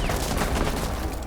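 A rapid, continuous burst of gunfire from a 20-round gun during a Rainbow Six Pro League match on Xbox, loud and close, with the shots running together.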